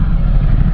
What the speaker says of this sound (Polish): downshifterek pięknie działa